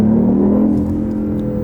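BMW i8 with a dual-clutch gearbox drones loudly as the engine speed falls away on a downshift, a close steady rumble with no voices.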